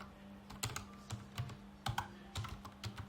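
Keys clack at an uneven pace on a computer keyboard during a pip install setup, with sharper accented strokes over a steady low hum. There is no speech.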